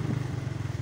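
A motorcycle engine putters close by on a narrow village road, a steady low throbbing pulse with fast, even beats at moderate loudness and no talk.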